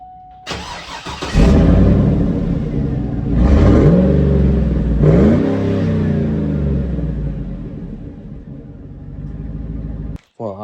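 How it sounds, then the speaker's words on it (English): A 2008 Yukon Denali with its muffler cut off cranks and starts nearby, then rumbles loudly at idle with two throaty revs rising and falling before the engine shuts off, and a voice speaks briefly at the end. "I guess we'll see what it sounds like now"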